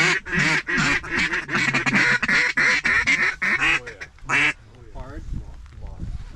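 Ducks quack loudly and rapidly in a dense, close chorus during a waterfowl hunt in a flooded Western Washington field, a brief word cutting in before fainter quacks trail off.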